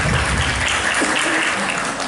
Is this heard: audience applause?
yes